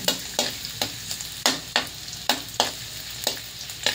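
Chopped garlic fries in oil heating in a pan, a steady close sizzle broken by regular sharp scrapes of a utensil stirring, roughly two per second.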